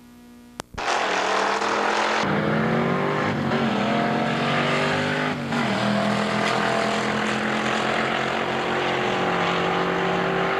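Drag race cars, a Mazda RX-7 among them, launch with a sharp bang and then a loud, sustained engine roar that holds steady and close for several seconds.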